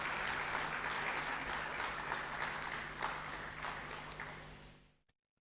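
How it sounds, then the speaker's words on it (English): Audience applause for the trainers at an AI certification hackathon event, a steady mass of clapping from a seated crowd that holds evenly and then cuts off abruptly into silence. "A round of applause for our trainers."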